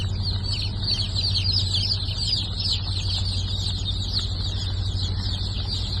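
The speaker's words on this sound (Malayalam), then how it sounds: "തലശ്ശേരി നാടൻ കോഴിക്കുഞ്ഞുങ്ങളാണ്." Thalassery native chicks crowded together at a hatchery, a continuous dense chorus of high peeping over a low steady mechanical hum, close and loud.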